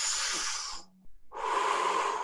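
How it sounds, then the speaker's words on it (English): A deep diaphragmatic belly breath, drawn in as a long, close, airy inhale, then a brief pause and a second long breath sound, with no talking. "what you really want to do is a diaphragmatic breath"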